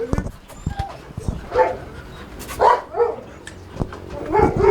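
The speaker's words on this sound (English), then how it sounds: "So here we have puppies." Two-month-old dark sable puppies yip and bark in short bursts close by, mixed with whimpers, while people talk over them throughout.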